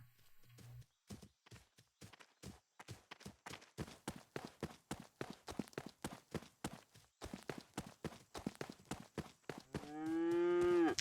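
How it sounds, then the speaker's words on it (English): Cattle mooing in the video game Shenmue 3, a run of close rhythmic clip-clop hoof-like steps and animal sounds, ending with a loud, drawn-out moo. "Here's some cows."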